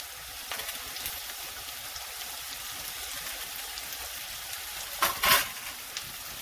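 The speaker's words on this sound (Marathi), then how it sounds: "बघा कांदा आपण परतोय कलर थोडासा लालसर येतोय" Onions gently sautéing in hot oil on a griddle over low heat for a Maharashtrian pithla, a soft steady sizzle throughout with a brief louder stirring clatter near the end, no talk.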